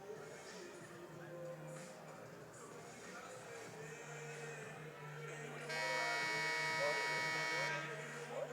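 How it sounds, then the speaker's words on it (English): Buzzer sounding at a college wrestling match between Alma College and Olivet College, one sustained loud electronic tone lasting about two seconds over an arena commentator's voice. "the buzzer has gone off for the 10-minute intermission"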